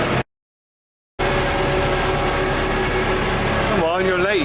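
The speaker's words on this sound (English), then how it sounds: "rounding my cows up with my tractor" A farm tractor engine drones steadily and loudly near at hand after a brief dropout at the start, with a wavering tone rising over the rumble toward the end.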